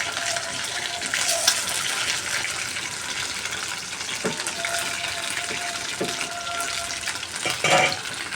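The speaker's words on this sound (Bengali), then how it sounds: "আমি খুব কম তেলের মধ্যে চিকেন ফ্রাই ভাজি করি" Chicken pieces fry in a small amount of oil, giving a steady, close hiss and crackle throughout with a few brief clinks and scrapes of a utensil.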